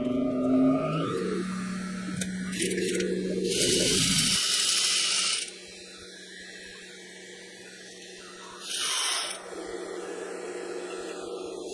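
A sewing machine stitches the side seams of a fabric garment in bursts of steady motor hum, stopping and restarting between runs, close and fairly loud with occasional handling rustle.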